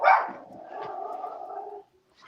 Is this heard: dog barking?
yes